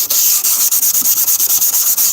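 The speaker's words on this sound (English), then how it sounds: "Okay, that's enough sanding." Steady back-and-forth scraping of sandpaper on rusty metal, sanded by hand in a rapid, regular rhythm of strokes, close and fairly loud with no voices.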